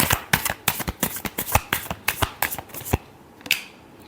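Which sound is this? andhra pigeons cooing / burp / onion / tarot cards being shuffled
tarot cards being shuffled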